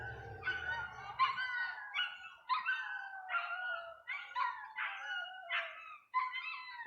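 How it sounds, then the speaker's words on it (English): Several dogs howl and yip together in a rising, wavering chorus, repeated cries overlapping without pause, fairly close and steady, with no talk over them. "The dogs are going crazy."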